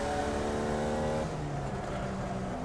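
A race car engine in the iRacing sim holds a high, steady whine, then shifts and drops to a lower drone as the throttle is worked through corners, with no talking.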